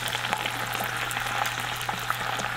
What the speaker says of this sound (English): After a couple minutes, we're gonna add our soy sauce